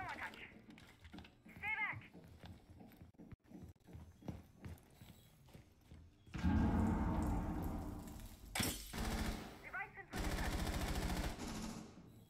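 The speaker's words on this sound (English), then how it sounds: "And there are some gunshots." Gunfire in the video game Rainbow Six during a Spring 2021 collegiate match between Marietta College and Florida Polytechnic: scattered shots, then loud sustained bursts of rapid fire, with game effects around them.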